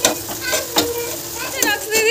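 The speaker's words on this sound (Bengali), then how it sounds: "এইটা হচ্ছে বাটার দিয়ে আলুটাকে ফ্রাই করছি" Potatoes fry in butter in a pan, giving a close, steady sizzle broken by a few scraping stirs, while a voice talks over the cooking.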